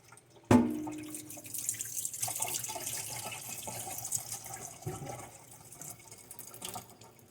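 Fresh water rinses and sloshes through sprouting micro-green seeds in a jar, starting with a sudden splash and continuing as a steady close trickle and swirl for several seconds, with no voices.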